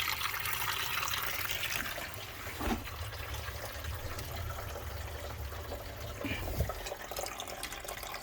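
Water draining from domestic plumbing pipes as the supply is shut off during a boiler replacement, a steady rushing trickle close by with a few faint knocks, no talk.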